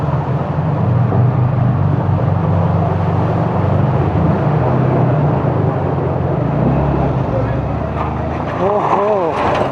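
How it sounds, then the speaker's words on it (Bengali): Water rushes steadily past at the Odlabari view point while someone wades through it, a dense continuous wash with wind buffeting, and a short burst of voice near the end. "দেখো জল কীভাবে বয়ে চলতেছে গাইস"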